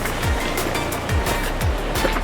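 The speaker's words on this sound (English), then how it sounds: "So the river, you can see there behind me, that we've been hiking by, actually feeds into the Amazon River." A river alongside a hiking trail near Machu Picchu rushes with a continuous loud broadband roar, a dense steady wash of flowing water with slight swells and no voices.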